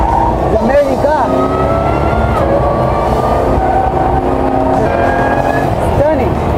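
Jaguar C-X75 hybrid supercar driving fast, a loud continuous engine roar with rising and falling pitch sweeps as it accelerates past, with a person talking excitedly over it.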